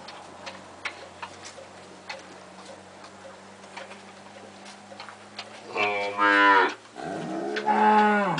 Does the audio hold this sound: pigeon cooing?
no